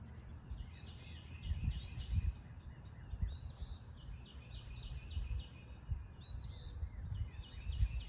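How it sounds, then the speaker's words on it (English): Several kinds of birds chirp and sing in the early morning around 6 a.m., overlapping calls repeating steadily at a moderate distance over a low outdoor rumble, with no talking. "So there you can hear some of those happy birds this morning at around 6 a.m. this morning."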